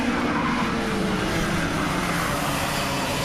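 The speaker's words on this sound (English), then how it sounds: "you can see how much side sliding and wheel spin I'm getting" A racing kart on track slides sideways with wheel spin, its engine droning steadily and loudly throughout with a continuous rough, skidding wash.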